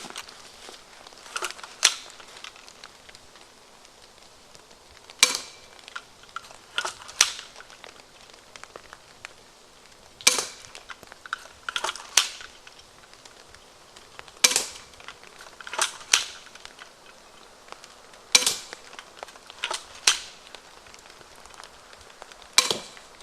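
A Viper repeating pistol crossbow fires five bolts at a coconut target. Sharp, crisp snaps and clacks of the mechanism come in irregular clusters across the stretch, fairly close and loud, with no talk.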